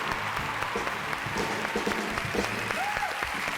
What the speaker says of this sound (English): Let's give a round of applause to the 6 dedicated eco and humanitarian organizations.